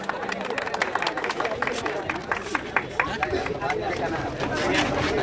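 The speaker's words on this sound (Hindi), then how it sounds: "जोरदार तालियां बजनी चाहिए।" An audience at a college sports trophy ceremony claps steadily in a dense stream of hand claps, with crowd chatter mixed in and the applause swelling toward the end.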